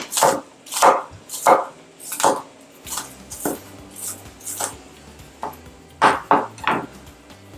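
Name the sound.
chopping a large onion with a knife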